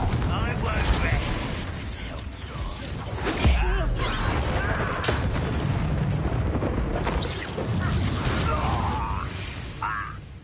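Confringo blasting-spell explosions in a Hogwarts Legacy duel: loud booms and crashing bursts among ongoing combat effects, with spoken voices over the action.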